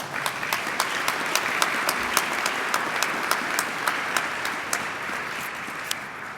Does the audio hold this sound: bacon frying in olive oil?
no